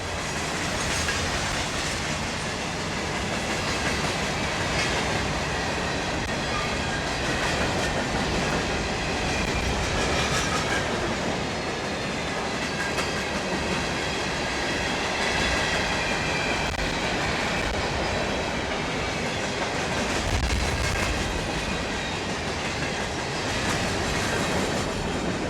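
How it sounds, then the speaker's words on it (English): Freight train hauling a long line of empty rock hoppers rolls past, a loud continuous rumble with rhythmic clickety-clack of wheels over rail joints and some metallic squeal, steady throughout with no talking. "The train comes with a really long line of empty rock hoppers"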